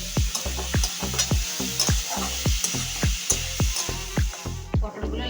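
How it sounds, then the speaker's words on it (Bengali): Pointed gourd pieces frying in a pan, a sizzle under a rhythmic series of about a dozen sharp scraping strokes as the pieces are turned, close and loud, with no voice. "পটলগুলো একটু ভালোভাবে লাল লাল করে একটু ভেজে নেব।"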